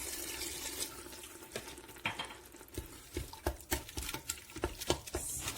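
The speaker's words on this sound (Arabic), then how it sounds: "هنا فاش كيتشحر الحوت مزيان كنضيف له غير شويه الماء ماشي بزاف" A small amount of water goes into fish sautéing in a pan, giving a soft sizzle with irregular close patters and light stirring scrapes, with no talk.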